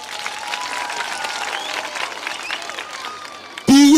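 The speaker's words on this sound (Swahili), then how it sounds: "Pigia Madam pia Excellency makofi." Audience applause at a Kisii county event where the First Lady donates sanitary pads and geometry sets to candidates, a steady dense clatter of clapping that cuts off abruptly into a loud, close burst of noise near the end.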